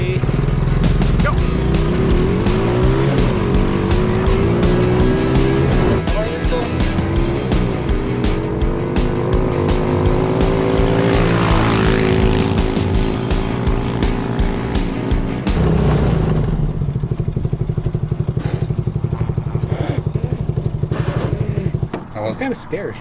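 A mini jeep accelerates hard in first gear, its small engine revving loud and close with a rising, raspy drone and rattling over rough ground, while people talk over the noise.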